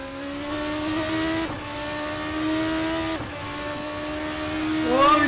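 Sim racing cars at Monza in a video game, with a sustained engine whine dropping at gear shifts and a brief squeal near the end, commentary running over it.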